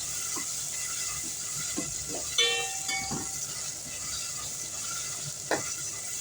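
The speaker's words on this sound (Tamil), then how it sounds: "இது நல்லா வதங்கட்டும்" Onions and tomatoes sautéing in a pan for a fish curry, a constant bright sizzle with occasional spoon scrapes and a brief metallic ring partway through, close and steady with no talking.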